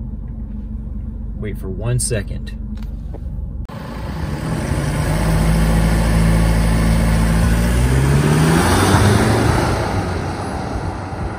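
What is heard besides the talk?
car approaching, diesel Chevrolet Colorado engine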